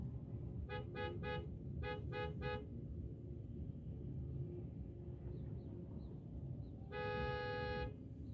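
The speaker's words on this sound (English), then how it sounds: "And who's honking and why?" A car horn honks in two quick triple bursts, then sounds once more in a longer blast, over a steady low traffic rumble at moderate distance.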